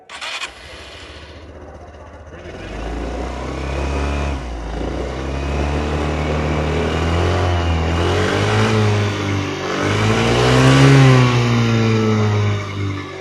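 A 2026 Suzuki Burgman Street scooter engine cranks and catches, settling into a steady idle before being blipped through several rising revs, close and loud with no talk.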